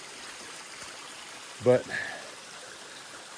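A stream flowing beside the Appalachian Trail gives a steady, soft rushing wash throughout, while someone briefly speaks over it.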